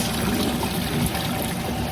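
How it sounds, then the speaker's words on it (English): Hot water from freshly blanched peas being drained into a kitchen sink, a steady close rushing pour with splashing and trickling that holds at an even level without a break. "now we are gonna take our peas and drain off all of the water"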